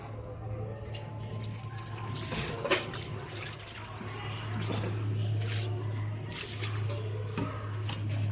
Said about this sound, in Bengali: একমগ হলুদ মিশ্রিত জল আমি আপনাদেরকে ব্যবহার করে দেখাবো